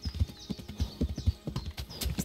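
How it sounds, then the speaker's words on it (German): Horse hooves clip-clop in the medieval role-playing game Kingdom Come: Deliverance, a steady close run of thudding footfalls with a few brighter hits, heard alone without speech. "Geh mal weg, mein Pferd muss durch,"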